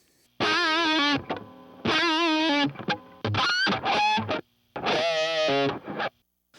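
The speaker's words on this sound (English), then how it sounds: "So that's our dry guitar sound." Electric guitar played through an amp, dry and closely miked with a single SM57, with distorted phrases and sustained notes separated by short pauses.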